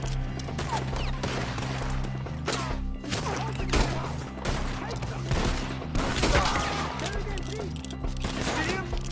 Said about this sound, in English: Shoot the ones up there!